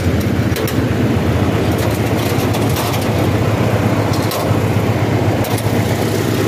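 Toyota 4K four-speed engine with a racing filter running in an owner-type jeep, a loud, close, steady rumbling idle with a faint rattle throughout.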